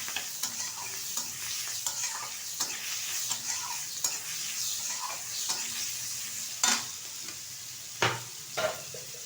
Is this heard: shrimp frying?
yes